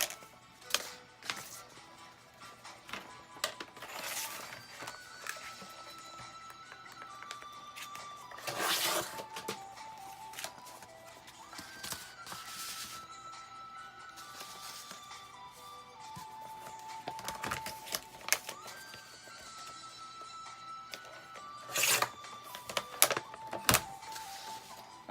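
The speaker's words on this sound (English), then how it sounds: "Okay, so I'm going to go off camera and cut that." Scissors cutting through a paper bag, with intermittent crisp snips and crinkling paper rustles in short bursts, close and fairly quiet, with pauses between cuts.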